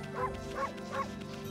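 Game dog sounds from the wolf Amaterasu in Okami HD: three short, evenly spaced yips or barks at moderate level over a steady background music drone.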